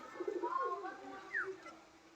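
Andhra pigeons in a home loft giving soft low coos, a couple of short calls close and fairly quiet, with faint room noise behind.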